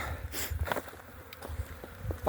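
Honey bees buzz at a beehive, with soft, close buzzing passing the microphone in short swells over quiet rustling, faint overall.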